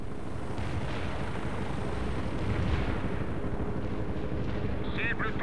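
Artillery support fire in the real-time strategy game World in Conflict: a continuous dense rumble of distant barrages and blasts that rolls on throughout, with no clear individual shots standing out.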